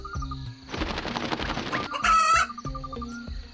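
A cartoon chicken in an animated folk story about a hen that lays golden eggs clucks and squawks in short bursts, with a loud shrill cry near the middle, set against light background music and no talking.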